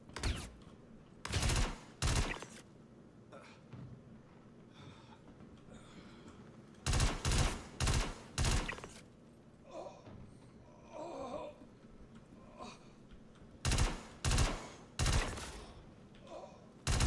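Bursts of gunfire in the space game Star Citizen, several loud clusters of rapid shots separated by pauses, with a voice talking quietly between volleys.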